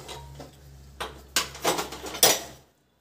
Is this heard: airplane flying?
no